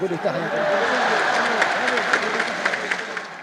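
A crowd of Muslims and Europeans applauds together, a dense, continuous wash of clapping from many hands that fills the whole stretch, with a voice talking over it.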